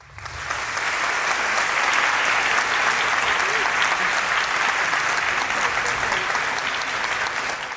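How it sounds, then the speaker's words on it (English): A school annual day show audience gives loud, sustained applause, dense clapping from many hands that swells in quickly and carries on evenly for several seconds before easing slightly at the end. "They really deserve unstoppable clapping."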